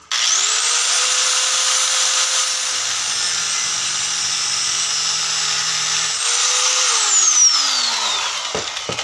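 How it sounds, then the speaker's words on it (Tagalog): Angle grinder heating a rusted screw on a Fujidenzo washing machine, a loud continuous high whine that holds steady for several seconds, dips briefly and then winds down near the end. "Gagarendirin ko rin yan para uminit at masungkit ng screwdriver na flat."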